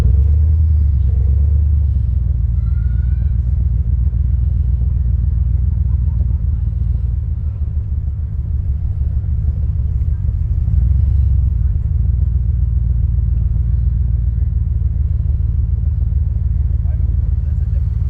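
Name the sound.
Corvette car driving, engine rumble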